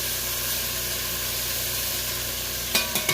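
Oxtails browning in a hot pan give off a steady, close sizzle that fills the whole stretch, with a few sharp clicks or taps at the end.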